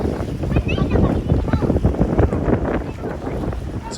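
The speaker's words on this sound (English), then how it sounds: "It's a very windy day" Strong, steady wind buffets the microphone at a port on a stormy day as a typhoon approaches, a loud continuous rumbling roar with gusty surges throughout.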